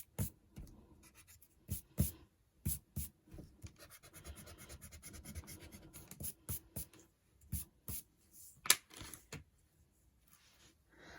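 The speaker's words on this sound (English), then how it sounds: "take an eraser, make sure your ink is dry, and erase any pencil lines you see just in the petals" An eraser rubs pencil lines off paper around an inked sunflower drawing, giving quiet, close scratchy strokes in irregular short bursts with a stretch of steadier rubbing in the middle, no talk.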